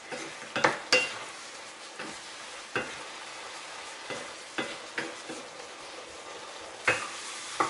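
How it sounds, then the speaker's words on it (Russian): Mushrooms frying in a pan over high heat, with a steady sizzle and irregular scraping knocks from a spatula as they are stirred now and then. "При обжарке грибы периодически помешиваю."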